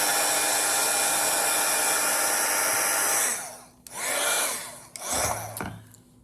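A heat tool blasts a steady, loud stream of air to melt wax, then cuts off and returns in two shorter bursts.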